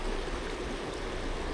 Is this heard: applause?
no